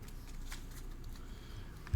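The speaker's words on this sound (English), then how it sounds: "Shuffle to make our chamber." A hand shuffles a deck of playing cards for a treasure-hunting tabletop card game, giving soft, quiet riffling and rustling for about two seconds. A duller bump lands at the end.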